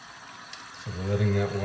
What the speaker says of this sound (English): So we're letting that water fill up a bit.